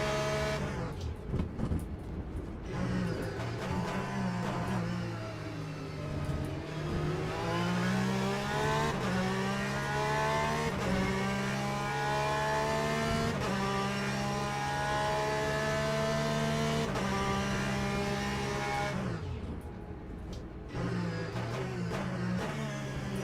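Race car engines roar in the Le Mans Ultimate sim racing game at Sebring, a loud, continuous whine climbing through gears with shifts and brief lifts, no talk over it.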